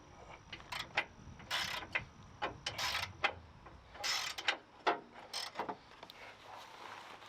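Socket ratchet working the tow hook bolts loose on a vehicle, a faint, close series of irregular clicking ratchet bursts over quiet background.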